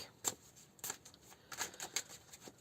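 Tarot cards being shuffled by hand during a reading: faint, soft riffling bursts and light paper flicks at irregular intervals, quiet and close with no talking.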